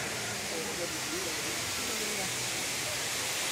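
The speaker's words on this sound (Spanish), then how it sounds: "Bueno, miren hacia allá, está la cascada." A distant waterfall makes a broad, constant roar of rushing water that fills the whole stretch, with faint speech murmuring beneath the steady noise.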